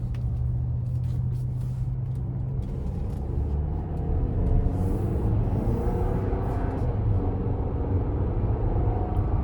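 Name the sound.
2024 GMC Acadia Denali accelerating out of a corner in sport mode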